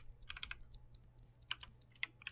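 Quick, sharp keystrokes on a Royal Kludge RK61 budget mechanical keyboard, heard close up as a short, irregular burst of clicky taps in a quiet room.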